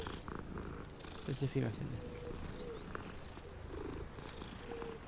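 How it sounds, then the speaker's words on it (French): Cats purr while being petted in the Hogwarts Legacy video game, a soft low rumbling purr with a few brief louder chirps, under a man's quiet speech. "Bon, je vais les caresser parce que s'il y a une quête, ouais, caresser 50 chats."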